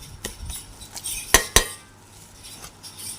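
A spoon stirs an egg and chopped carrot bread batter in a bowl, giving a few soft scrapes and then two sharp metallic clinks against the bowl close by, with no talking.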